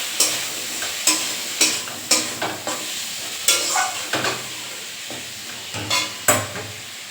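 Spice masala frying in oil with egg and potato, a steady close sizzle broken by repeated scraping stirs at an irregular rhythm, with no talk.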